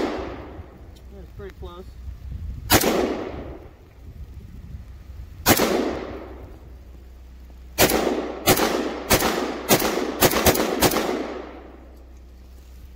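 Gunshots fired outdoors at a snowman, sharp loud cracks with ringing decay: two spaced shots, then a quick run of about seven in succession, with someone talking briefly between them.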